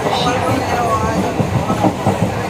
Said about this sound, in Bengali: তো আমরা ট্রেনে যাচ্ছি, এখান থেকে শিয়ালদা নামবো।